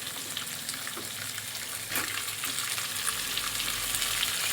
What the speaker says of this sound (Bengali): এবার আমি শিম কটা দিয়ে দিচ্ছি।